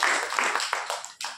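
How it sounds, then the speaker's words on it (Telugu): A church congregation claps their hands during Sunday worship, several rhythmic bursts of clapping that are fairly loud and close, with no talking over them. "చప్పట్లు కొట్టి ప్రభువును మహిమపరచాలి."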